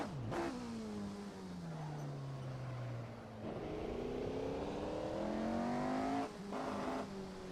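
An F3 race car on the Monaco 1972 circuit in the Assetto Corsa racing game accelerates hard, its engine note climbing steadily with sharp drops at gear changes, a continuous, buzzy roar heard up close with no talking.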